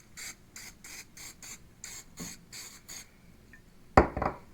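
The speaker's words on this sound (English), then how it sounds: "put a little more olive oil on them. I'll just" Short bursts of olive oil spray hit chicken wings in an air fryer basket, about eight quick hisses in a steady rhythm, then a louder clatter at the end.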